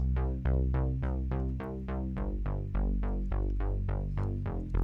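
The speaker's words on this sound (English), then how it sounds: "I used the classic analog bass." A deep, warm 1980s-style analog synth bass preset in Logic Pro X plays a steady run of notes, each with a bright filtered attack that quickly mellows, loud and upfront with no voices.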